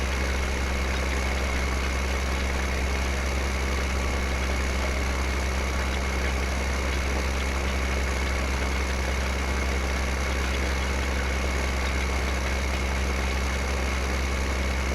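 A tractor engine idles steadily in Farming Simulator 2015, a continuous loud low drone with a constant hum that never changes pitch and runs alone for the whole stretch.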